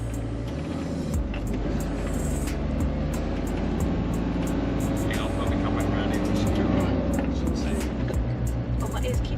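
A car climbs a winding road up a volcano, its engine and road noise a steady rumble with scattered clicks, while people talk over it.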